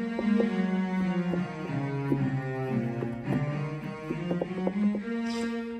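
An orchestral patch from the Roland FA-06 keyboard's orchestra bank, played through an MPC Live 2 as a short phrase of sustained, overlapping notes that rise and fall, full and steady with no voices.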